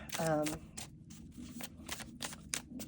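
A Moonology Oracle card deck is shuffled in soft, repeated riffling bursts close by, partly under a voice speaking at the start.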